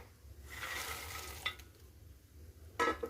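Fried peanuts stirred into puffed rice (murmura) for namkeen, giving a soft crisp rustle and light scraping close by, with a couple of sharper stirring clatters, no speech.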